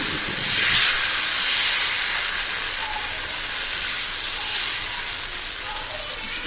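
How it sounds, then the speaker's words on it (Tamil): Wheat and onion dosa batter sizzles on a hot griddle, a loud, steady hiss that holds close and even throughout with no voices. "தோசை கல் அடுப்பில் வச்சுட்டு தோசை மாவு"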